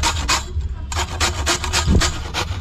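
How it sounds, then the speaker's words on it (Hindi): A potato being grated on a fine grater, rhythmic rasping strokes close up, about a dozen quick scrapes with a brief pause near the start. "सबसे पहले देखिए हम आलू को एकदम पतले वाली जाले से घिस लेंगे"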